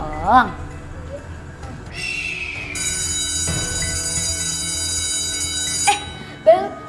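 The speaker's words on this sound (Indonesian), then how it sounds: "Bel udah bunyi tuh." A bell rings in one long, steady, shrill electric tone lasting about three seconds, with voices heard just before and after it.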